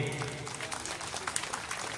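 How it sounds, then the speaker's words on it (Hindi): Audience applause at a Christian youth association conference after a bhajan performance, a short burst of dense clapping, fairly faint and steady. "इनको हम तालियां बजाकर विदाई करेंगे"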